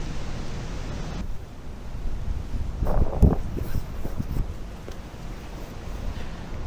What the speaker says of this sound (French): comme aujourd'hui il y a pas mal du vent autour, je me suis dit c'est le meilleur moment de tester cette option là, réduction du vent